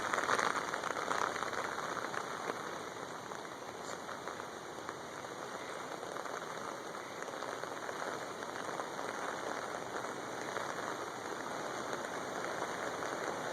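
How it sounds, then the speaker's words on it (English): Steady rain patters on surfaces outdoors, a soft continuous hiss with faint drips, even and fairly quiet throughout with no one speaking. "It's raining."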